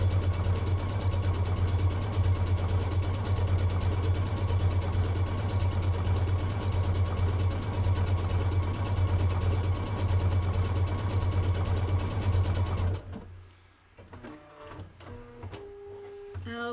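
A new sewing machine stitches a sample row at a steady, fast mechanical hum for about thirteen seconds, close and loud, then stops, leaving faint clicks and small handling noises.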